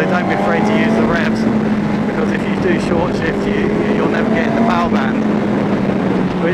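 A 2004 Yamaha R1 superbike engine drones steadily at high revs while riding, loud and continuous with wind rush, and a voice talks over it throughout.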